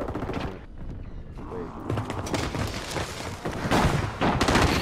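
Video game firefight between two teams shooting it out, with dense bursts of gunfire and booms rolling throughout amid a busy mix of game noise, with some voices talking over the fighting.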